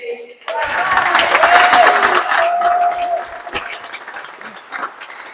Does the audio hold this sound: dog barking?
no